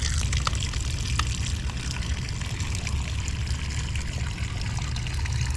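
Yellowish drinking water pours out steadily in Santa Barbara, Iloilo, Philippines, a continuous splashing gush heard close and loud with wind noise mixed in and no talking.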